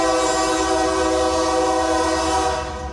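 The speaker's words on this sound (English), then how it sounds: "The train does not bother me in the slightest." A train passes through downtown Bryan, its horn blaring loud and sustained for about three seconds over a rumbling rail roar, fading slightly at the end.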